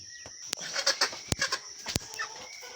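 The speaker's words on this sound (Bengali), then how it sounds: "এবার এই মুরগি" Chickens, kept for sale at home, cluck in short, soft bursts, mixed with a few sharp clicks and knocks nearby, with no talking.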